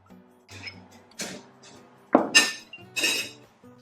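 Empanada dough being mixed in a bowl, heard as a few scattered clinks and scrapes of a utensil against the bowl, with short bursts spaced unevenly and no one talking.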